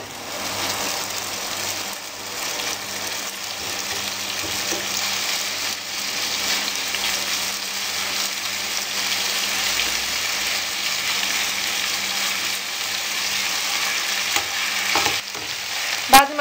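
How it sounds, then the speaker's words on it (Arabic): Chopped chicken breast pieces sauté in a pan with onion, spices, salt and black pepper for fajitas, giving a steady, close sizzle throughout with occasional stirring scrapes and a sharper clatter near the end. "يبقى شوحنا البصله، نزلنا عليها صدور الفراخ المتقطعه، وحطينا عليها بهارات وملح وفلفل اسود"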